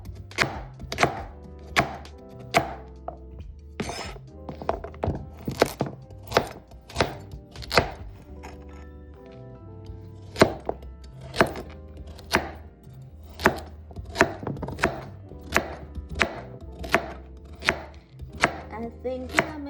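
Knife chopping carrots on a cutting board for homemade carrot juice, sharp regular thwacks repeating at a steady brisk pace, close and loud, with no talking.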